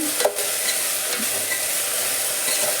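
Food with salt being stirred and mixed in a hot pan, a steady soft scraping and faint sizzle running through, close and fairly even, with no voices.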